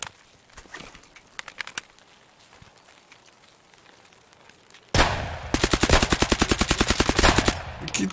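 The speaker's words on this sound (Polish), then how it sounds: "To ja strzelam się z jakimiś typami." Automatic gunfire in Escape from Tarkov, a rapid loud machine-gun burst after a few scattered quieter shots, the rounds coming in a fast steady rhythm.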